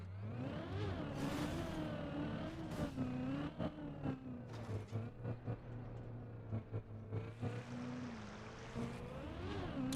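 A car engine drones and revs steadily in a racing video game, with harmonic engine tones rising and falling over ten seconds and repeated sharp bursts of shifts or impacts, close and loud throughout.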